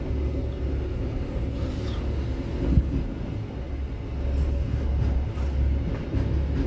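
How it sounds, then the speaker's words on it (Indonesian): The Sancaka Utara passenger train entering Cepu station, a loud steady rumble of rolling wheels and engine drone with rhythmic clanks, continuous throughout and heard close by without any talk. "kereta api Sancaka Utara yang mau masuk stasiun Cepu"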